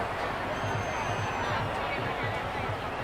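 Dense, steady roar of a packed stadium crowd at a T20 World Cup cricket match between West Indies and South Africa, a continuous broad wash of cheering and babble with a faint whistle riding over it.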